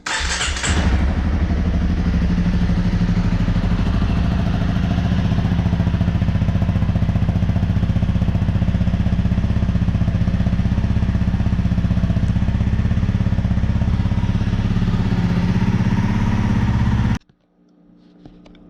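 A 2019 Honda CRF250L motorcycle engine fires up with a clatter and settles into a loud, steady, close single-cylinder idle that runs evenly for over fifteen seconds before abruptly shutting off.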